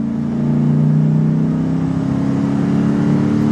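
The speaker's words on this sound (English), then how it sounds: "we just gonna do a quick little pull of about 3/4 of throttle. Listen at the motor." Close, loud, steady drone of a pickup truck engine under a three-quarter throttle pull, either a Dodge Ram SRT10 or a Chevrolet Silverado SS, holding a dense low tone for several seconds with no voices.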